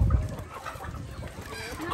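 Chickens cluck close by in a continuous, irregular chatter of short throaty calls that rise and fall over a low background rumble.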